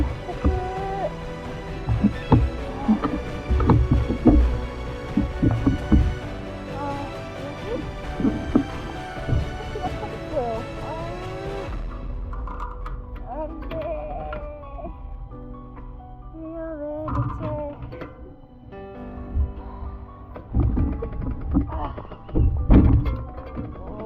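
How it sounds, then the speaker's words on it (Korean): A road bicycle wheel with a flat tire thumps during the 2023 Tour de Okinawa race, repeated dull thunks running under loud background music throughout. "통통통 소리가 나면서 휠이 꿀렁이기 시작합니다."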